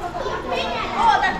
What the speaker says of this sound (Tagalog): Ingay ng mga bata dahil yan nagbabike.